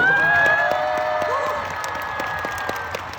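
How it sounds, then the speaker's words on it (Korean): A large concert crowd applauds and cheers at the end of a stadium show at Seoul's Jamsil Olympic Stadium, loud at first and easing off, with scattered shouts and a voice over a speaker ringing above the clapping. "여러분들 이분들한테도 한번 박수 쳐주세요"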